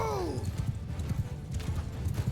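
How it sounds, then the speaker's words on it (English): Horses gallop across a battlefield in Mount & Blade II Bannerlord, a rhythmic clip-clop of many hooves with a brief whinny at the start, under a voice. "I'm just going to go over this little hill here while I send my horses left and right and horse archers right here."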